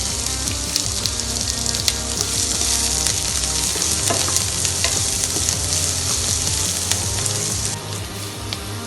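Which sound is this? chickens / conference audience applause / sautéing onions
sautéing onions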